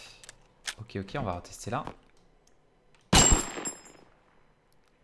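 A single loud Winchester rifle shot in Totally Accurate Battle Simulator cracks out sharply and decays with a ringing tail. Someone talks just before it, and a few faint clicks sit in the quiet around the shot.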